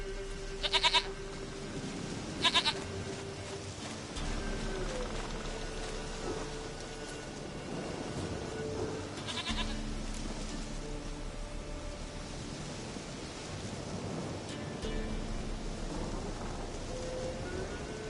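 A goat in a video game gives two short bleats near the start, then falls quiet under a steady patter of rain that continues throughout.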